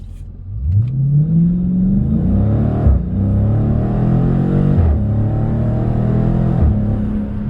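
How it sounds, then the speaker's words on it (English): A 2020 Dodge Challenger Scat Pack accelerates hard, its engine note climbing steadily through three gears with brief dips at each shift, loud and close with no talking. "let's try and get one more good little acceleration here"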